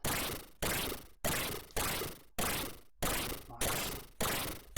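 Blaster gunfire from the Commodore 64 game Atomic Robo-Kid, eight loud, evenly spaced bursts about every 0.6 seconds, each sharp hit decaying into a noisy tail.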